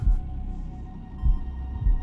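A slow, heavy heartbeat, used as a sound effect in a short horror story, throbs deep and loud over a low hum, thudding in two pulses about once every second.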